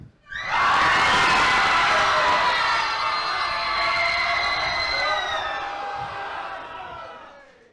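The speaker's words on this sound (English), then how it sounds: "And now scream like Godzilla is here." A convention panel audience at a Shin Godzilla event lets out a long, loud, sustained group scream that swells, holds for several seconds and slowly fades.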